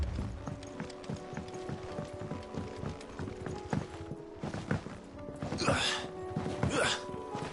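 Horse hooves clip-clopping in Final Fantasy XVI, a quiet, regular series of hoofbeats under ambient game sound, with a couple of brief whooshing swells near the end.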